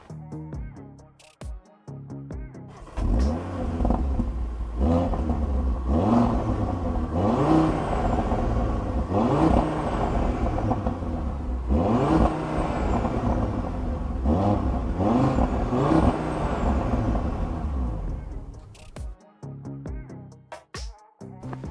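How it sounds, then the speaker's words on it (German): A 2021 Audi RS 3 Sportback with the RS sport exhaust fires up nearby with a sharp starter burst. It then settles into a rumbling idle broken by several rising revs, before shutting off between faint clicks. "Jetzt gehe ich mal rein, schmeiß euch die Mühle an und dann sprechen wir über den Sound."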